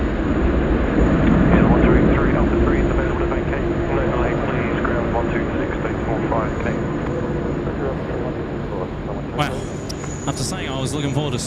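An airliner touching down at Sydney Airport, a steady loud engine roar and rumble throughout, with people talking over it and radio chatter near the end.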